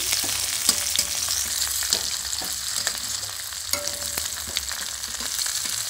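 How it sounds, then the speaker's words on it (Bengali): Dried red chili and panch phoron spices fry in oil with a loud, constant sizzle. Frequent sharp clicks and scrapes of stirring cut through it. "শুকনো লঙ্কা দিলাম। এবার এটা একটু পাঁচ ফোড়ন দেবো, দিয়ে একটু নাড়াচাড়া করে নেব।"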